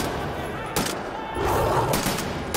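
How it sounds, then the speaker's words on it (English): Gunfire in the Wolfenstein video game crackles in short bursts, with two distinct volleys of rapid shots standing out over a noisy, fairly loud game background. "Calculated shots for the win."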